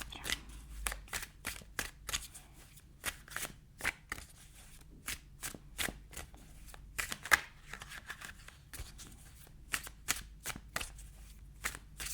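Tarot cards are shuffled by hand in a quiet room, a rapid series of crisp riffling and flicking bursts repeating irregularly and close up, with no speech.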